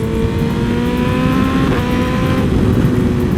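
A full carbon BMW S1000RR motorcycle engine drones loud and close during a ride, holding a steady high rev with a slight rising pitch and wind rush.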